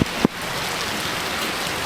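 Steady heavy rain pours down in a dense broadband wash, with a couple of brief louder thumps near the start and end.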